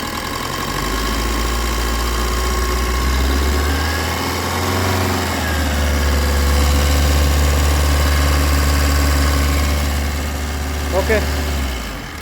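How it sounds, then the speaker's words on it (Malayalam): Maruti Swift diesel engine idling after a timing chain repair, a steady, even mechanical hum with a slight rise in revs, close by and continuous, with faint voices in the background. "എഞ്ചിൻ നല്ല സ്മൂത്ത് സൗണ്ട് ആയിട്ടുണ്ട്"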